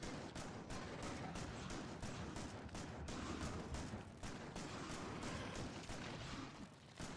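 Rapid, dense shotgun fire in the factory-building game Factorio, a relentless stream of booming blasts packed close together with no pauses, loud and alone.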